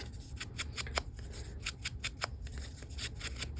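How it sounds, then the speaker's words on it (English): Scissors snip off overhanging material during a craft project, a quick series of close, crisp cuts in a quiet room. "And I'll just trim it off wherever it's hanging over."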